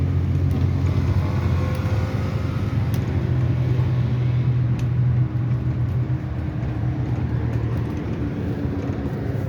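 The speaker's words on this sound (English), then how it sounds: "on a Routemaster bus you can certainly bounce your way around if you hit a road hump" Inside a Routemaster bus, RML 887, riding through London on an October night, a steady low engine drone and road rumble continue throughout, with occasional faint rattles and knocks from the cabin, no one speaking.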